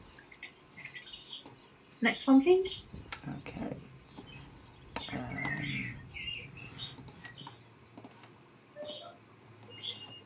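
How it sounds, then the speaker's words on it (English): A bird sings from a hedge outdoors, bright chirps and trills scattered through the clip, fairly near, heard alongside a person talking in brief phrases. "There's this bird giving it some."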